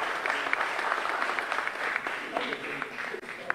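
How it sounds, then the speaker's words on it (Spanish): A steady wash of audience applause at a civic event in Génova, Quetzaltenango, Guatemala, following remarks by the town's mayor. It is moderately loud and continuous throughout, with dense overlapping claps and no speech. "Vamos a brindar otro fuerte aplauso a estas emotivas palabras del ingeniero Edgar Amílcar Escalante,"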